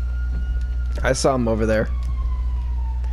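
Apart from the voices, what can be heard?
police siren in a video game (GTA)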